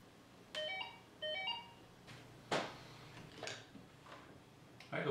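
A telephone dials out in a lab coordinating an EEG-controlled robotic arm experiment: two short bursts of tonal beeps, followed by a few faint clicks and handling knocks, quiet and close.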